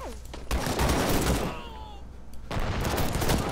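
Dense gunfire in the multiplayer video game Call to Arms, bursts of rapid shots aimed at an enemy weapon emplacement, loud and close with a short lull midway before the firing picks up again.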